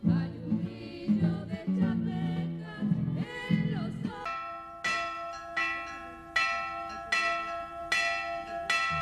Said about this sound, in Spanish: las campanas del rosario llaman al inicio de las celebraciones